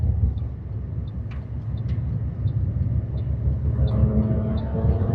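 Steady low road rumble of traffic on a Bangkok street as a car overtakes, a continuous engine drone with faint ticking heard from inside a vehicle.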